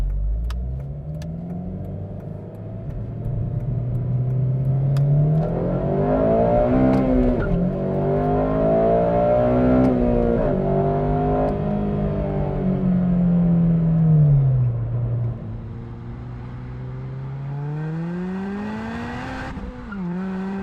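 A modified eighth-generation Honda Civic Si accelerates on a race track, its engine climbing steadily through the revs across several gears with brief dips at each shift, loud and close, with no talking.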